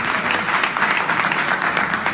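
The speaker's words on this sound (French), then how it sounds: "Je vous demande d'applaudir." An audience at an African music forum claps steadily for about two seconds, a dense, even burst of applause close by with no voices over it.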